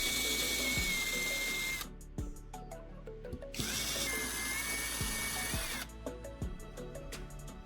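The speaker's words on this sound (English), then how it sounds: "I'm drilling pilot holes with the caster wheel" A power drill bores pilot holes into a wooden base where a caster wheel will mount, with whining bursts of drilling broken by short pauses and the motor's pitch dropping under load.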